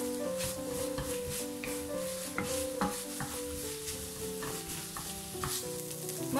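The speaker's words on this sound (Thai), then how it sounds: "เราก็ใส่ถั่วพูลงไปผัดเลยค่ะ" Winged beans stir-fry in bubbling coconut cream, making a steady close sizzle with repeated scraping stirs and a faint tonal hum in the background.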